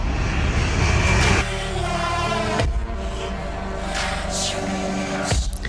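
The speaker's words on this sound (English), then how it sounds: "Look what's coming, y'all. ANA Airlines, Boeing 7." An ANA Airlines Boeing airliner passes overhead with a loud, steady jet roar that swells and shifts as it flies by, heard alone without talk.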